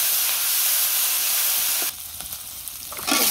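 Gourd and green chillies sizzle loudly in hot oil with five-spice, a steady hiss that drops abruptly partway, leaving a quieter crackle with brief spikes before it flares up again at the end.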